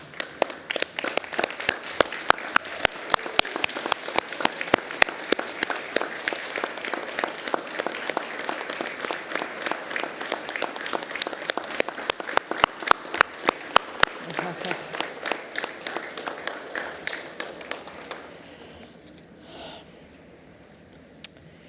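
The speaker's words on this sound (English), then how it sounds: "ask for everyone else to stand and join me in applauding the wonderful achievement of our graduates" A crowd at a university graduation ceremony in Ourimbah, Australia, applauds the graduates with long, sustained clapping that holds steady for many seconds before thinning and dying away, with a few scattered claps and faint murmurs after.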